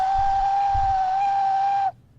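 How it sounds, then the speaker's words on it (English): A person whistles one steady, clear, loud note for about two seconds before it cuts off abruptly, leaving near silence. "Let me whistle."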